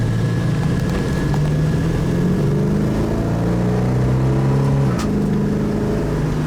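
A 1970 Oldsmobile 442 engine roars loudly and steadily, pitch climbing through one gear, then dropping with a brief burst as it shifts up and pulls hard again, close by with no talking.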